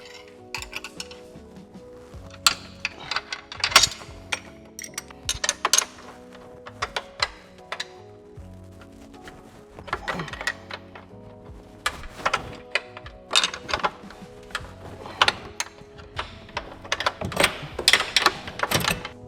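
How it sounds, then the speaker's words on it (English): Two 18mm wrenches work loose a tight bolt through a rubber suspension bushing, giving repeated metallic clinks, ratcheting taps and tool clatter in irregular bursts, close and moderately loud with no talking. "Now what you're gonna do is you're gonna use 2 18mm wrenches"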